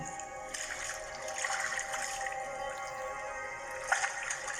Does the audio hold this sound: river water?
yes